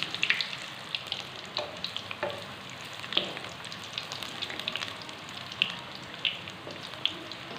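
Chana dal koftas fry in a pan with a steady, close sizzle, broken by occasional sharp clicks and pops as they are turned.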